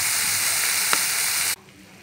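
Sea snails stir-fried with chili and lemongrass, a loud, even sizzle that cuts off abruptly, leaving a faint background hush.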